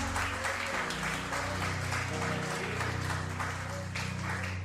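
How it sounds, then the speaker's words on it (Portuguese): A church congregation applauds in a steady, full wash of clapping, heard alone without talk, with a low musical drone underneath. "Você pode dar uma salva de palmas para Jesus?"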